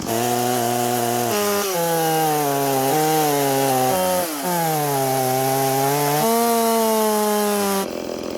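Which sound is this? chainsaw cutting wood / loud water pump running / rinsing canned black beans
chainsaw cutting wood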